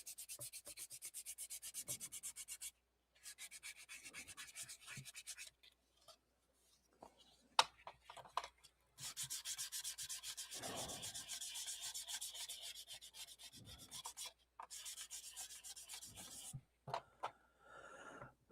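Hand sanding with finer grit sandpaper at a workbench, a soft scratchy rubbing in repeated strokes with short pauses between passes, close and fairly quiet, no talking.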